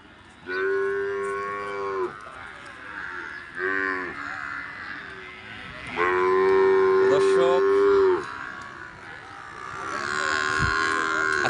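Young milk-fed buffalo calves at a livestock market, with several drawn-out moos and bellows at close range, separated by short pauses, over a murmur of market background noise.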